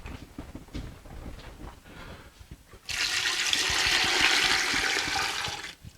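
Water gushes into a pot over apples for hot cider, a loud steady splashing pour that starts abruptly after a few soft clunks and handling sounds, then cuts off near the end.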